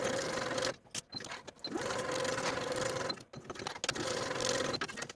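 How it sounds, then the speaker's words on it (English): A sewing machine runs in steady bursts as it stitches the side and top edges of a pocket flap with a half-inch seam allowance, stopping briefly a few times between runs. "Sew the side and top edges with a 1/2 inch seam allowance"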